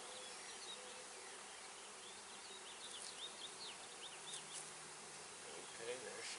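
Dense, steady buzzing of many honey bees close by on a hive frame during package installation, a constant droning hum with individual bees flitting past, and faint voices beneath.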